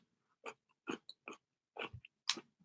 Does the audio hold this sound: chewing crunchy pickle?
yes